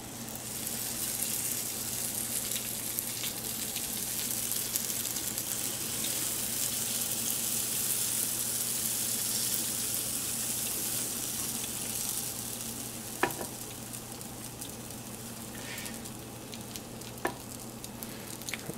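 Coconut flour batter poured onto a lightly greased waffle maker, a steady close sizzle and hiss with a faint hum beneath and a couple of sharp clicks near the end, no speaking.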